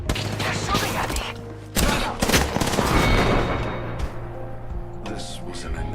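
Gunfire in the Apex Legends video game crackles in rapid repeated bursts and volleys over a steady game background, close and fairly loud, with a speaking voice at times.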